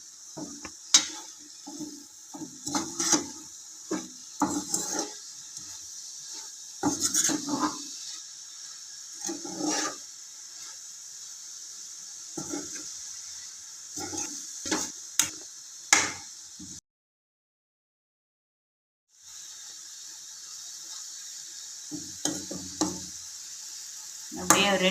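Fish and ground coconut are stirred gently in a pan for a fish poriyal, with quiet irregular scraping and faint sizzle. A short silent gap breaks the stirring before it resumes.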